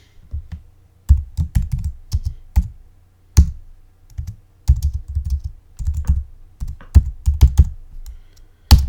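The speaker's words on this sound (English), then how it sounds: "so I will type now type the following" Commands are typed into a terminal on a computer keyboard, loud and close, as bursts of clattering keystrokes separated by short pauses, with one sharper heavier key press, and no one speaking.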